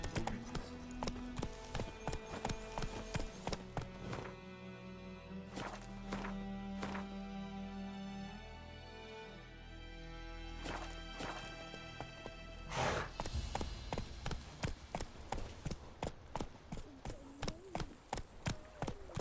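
Horse hooves clip-clop in a steady trotting rhythm in The Witcher game, pausing briefly midway and then resuming loud and close over background music.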